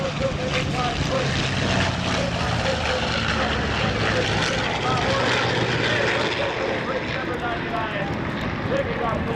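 Racing propeller aircraft roaring during an air race demo at Oshkosh, Wisconsin, a loud continuous engine drone with the prop picking up RPM under a commentator's voice.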